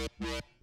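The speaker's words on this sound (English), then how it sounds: "Then next I have this Mr. Rage growl noise" A Mr. Rage growl synth patch for a rage beat plays two loud, buzzy harmonic-rich notes, a short one then a longer sustained one, with a quieter tail trailing after.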